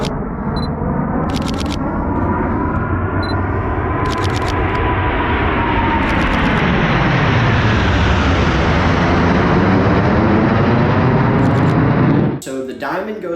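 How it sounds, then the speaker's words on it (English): The four Blue Angels jets fly overhead in diamond formation at El Centro, a loud, sustained roar that swells and shifts in pitch as they pass, with camera shutter clicks and some voices nearby. "So those are just the 4 airplanes in the diamond formation"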